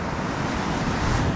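Steady ocean surf rolling in at Flagler Beach, Florida, a continuous broadband wash mixed with wind buffeting the microphone, loud and close with no talking.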